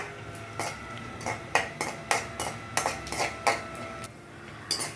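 Dry fruits roasting in a pan for karanji filling, a spoon scraping and knocking against the metal in a steady irregular series of clinks, close and fairly quiet, with no talking.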